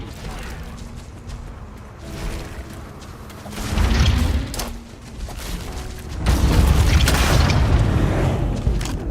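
Grenade explosions in the video game Starfield, deep booming blasts with rumbling tails, a first burst midway and a longer, louder roar toward the end, over steady background game noise.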